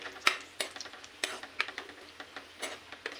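Ground masala being stirred and fried in oil for restaurant-style kaju masala cashew curry, heard as quiet, evenly spaced spoon scrapes and clinks against the pan over a faint sizzle.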